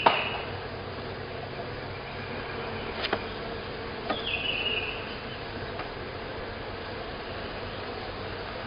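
A swarm of bees settled into a hive in Lithonia, Georgia, building wax on blank frames, gives off a faint, steady drone with a few soft clicks and knocks close by.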